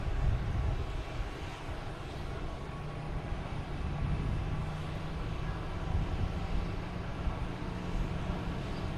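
A Boeing 747 airliner nicknamed the Queen moves past at Boston Logan Airport, its steady jet engine roar a broad, continuous rumble at a constant level throughout, with no talk.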